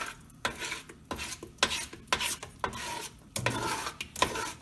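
A spoon stirring a cooking playdough mixture in a pot, giving repeated scraping and knocking strokes in an uneven rhythm, close and fairly loud with no talking.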